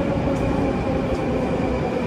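A metro train in Russia pulls into a station with a steady, loud rumble of wheels and motors, continuous and close, with no voices over it.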